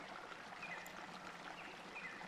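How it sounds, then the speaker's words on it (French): A gently flowing river in a forest, its soft steady rush of water continuous and faint, heard as from a distance with no other sounds. "tu perçois au loin le bruit d'une rivière qui coule doucement"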